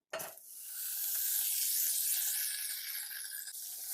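A stick of butter melts in a hot pan with a steady, soft hiss and sizzle that begins abruptly and holds at an even, fairly quiet level throughout, with no voices.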